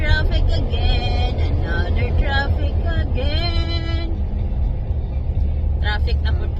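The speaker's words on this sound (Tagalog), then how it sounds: "It's another traffic again." Road traffic on the way to Smoky Mountain: a steady low rumble of cars and engines runs throughout, close and fairly loud, while people chat over it.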